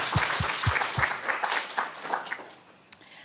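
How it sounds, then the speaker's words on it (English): Audience applause at an Atlanta forum for nonprofit leaders and small business owners starts with a few loud, separate claps and then fades into a thinner patter. A voice murmurs faintly, and a sharp knock lands near the end. "Let's give them another round of applause."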